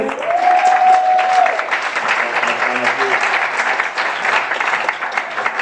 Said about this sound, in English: Big round of applause for Susan.